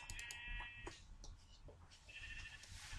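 Sheep bleat in a video game, a few short, quiet animal calls over soft background game sounds.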